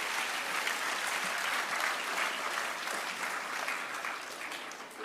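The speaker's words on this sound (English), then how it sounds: "let us have another big round of applause for these lovely and energetic kids" A school event audience gives a big round of applause after a children's performance, steady, full clapping from a large crowd that holds at an even level throughout and fades slightly at the end.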